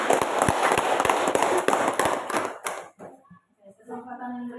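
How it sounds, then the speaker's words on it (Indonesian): An audience applauds after a group discussion session, steady dense clapping for about three seconds that tapers off into quiet, followed by a voice speaking. "Kita beri aplaus sekali lagi"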